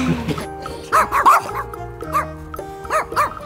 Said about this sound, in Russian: Вот собаки и то облаяли.